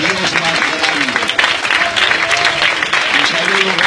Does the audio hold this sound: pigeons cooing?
no